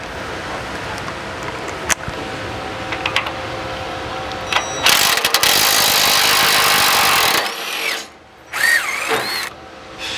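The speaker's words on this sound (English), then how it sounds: "So crack this bolt open." A power tool cracks loose the Panhard bar bolt on a lifted car, buzzing steadily and loud with a ratcheting surge partway through, then cutting out, pausing briefly and whirring again.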